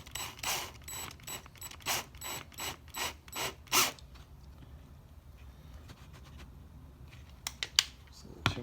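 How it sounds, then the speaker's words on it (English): A small screw with a washer being driven in slowly by hand while building a home letter press, heard as a run of close, rhythmic ratcheting clicks, then a quieter pause and a few sharp final clicks. "I'm going to take a little screw and a washer, give it a little bit of room"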